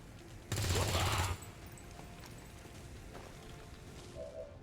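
Gunfire erupts in XCOM 2: War of the Chosen, a loud burst of rapid shots lasting under a second, followed by quieter ambient game sounds and small clicks.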